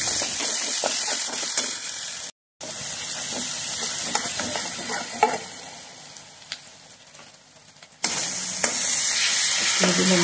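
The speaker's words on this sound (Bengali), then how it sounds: "এবার ভালোভাবে একটু নেড়ে চেড়ে নিয়ে কিন্তু এই যে দিয়ে দিলাম পেঁয়াজ কুচি আর রসুন কুচি।" Chopped onion and garlic fry in hot oil with cumin, bay leaf and whole garam masala, a steady loud sizzle with scraping stirs and a brief cut of silence partway through.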